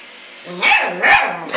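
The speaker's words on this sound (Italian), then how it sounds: "Chi ti ha detto di abbaiare?" A dog barks twice up close, loud sharp yaps with a third starting at the end, over a faint background hum.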